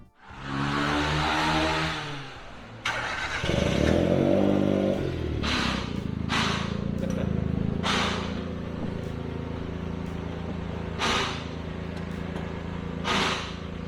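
A motorcycle engine with a hard-to-shift clutch runs steadily up close, revving briefly near the start before settling into a continuous idle, with sharp clatters and clicks breaking through several times.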